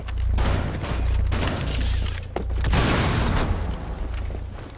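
Gunfire in Rainbow Six Siege during a team deathmatch on the Bank map: several loud, close shots and booming bursts over a low, steady rumble of game noise.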